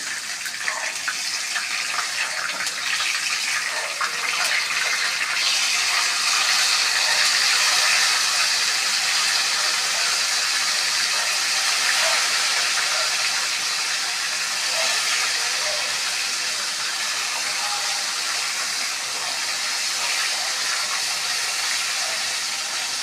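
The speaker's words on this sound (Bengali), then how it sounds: "এবার এর মধ্যে টমেটোটা দিয়ে দিচ্ছি। টমেটোর মধ্যে একটু নুন দিয়ে দিই, তাহলে টমেটোটা তাড়াতাড়ি গলে যাবে।" Tomatoes with salt sizzle in a hot pan while a chicken curry cooks, a steady, close, hissing crackle that runs unbroken for over twenty seconds.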